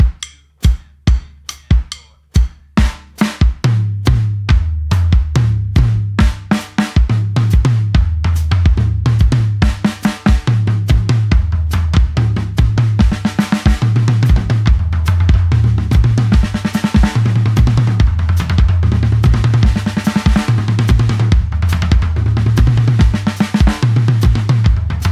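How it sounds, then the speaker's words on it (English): A drum kit plays fast triplet patterns moving around the snare, rack tom and floor tom, starting with sparse hits and building into a dense, loud, continuous roll of strokes with steady low tom accents. "Now, the fun part is moving around the drum kit."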